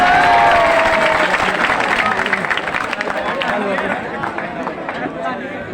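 Applause for a poet at a 26 January mushaira: a loud, dense wash of crowd clapping fills the whole stretch, fading slightly toward the end, with a faint voice under it at the start.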